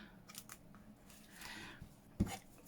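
Scissors cut down a paper back pocket for a junk journal file folder, with a few quiet close snips spread across the moment and a sharper cut toward the end; no one talks.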